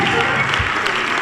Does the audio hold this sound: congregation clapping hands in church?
yes